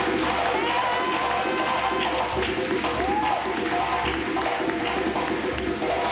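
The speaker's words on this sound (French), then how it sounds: "Je veux qu'on acclame très fort le Seigneur Jésus." A church congregation cheers and acclaims loudly, a dense sustained roar of shouting and clapping that fills the hall throughout, with voices mixed into the noise.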